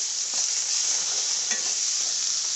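Steady, close-up sizzling of tomatoes sautéing in a pan, with a brief stirring scrape partway through and no voices.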